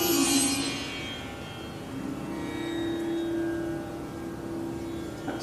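A sitar with a deliberately engineered buzzing bridge sounds alone, a bright attack fading into sustained, buzzy drone tones that hang at moderate level.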